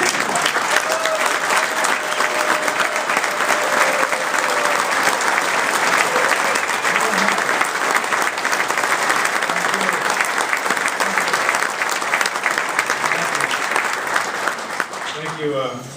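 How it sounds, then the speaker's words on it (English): A packed firefighters' union convention hall erupts in loud, sustained applause and cheering, dense and steady throughout before easing off at the very end, with a few voices shouting within the crowd. "All the loud cheering over there will not get you another nickel"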